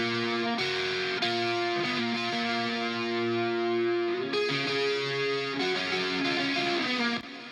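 A crunchy, distorted electric guitar runs through a Plexi amp capture and a Marshall cabinet IR with a vintage speaker and a single 57 mic, playing sustained chords and notes that shift a few times before cutting off.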